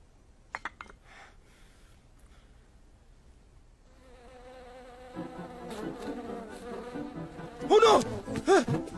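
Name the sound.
bee buzzing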